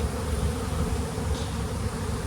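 Honey bees drone steadily at a hive frame wet with fresh nectar during a strong honey flow, a dense close-up buzz filling the whole moment with no voices.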